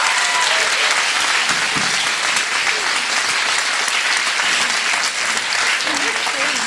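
A studio audience gives sustained, dense applause for about seven seconds after a live music performance, the steady clapping filling the room without a break.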